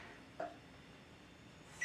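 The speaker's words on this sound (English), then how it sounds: "Thank you, oven. Oven's all preheated." Two short electronic beeps from an oven signalling it has finished preheating, one early and one near the end, over a quiet room hum.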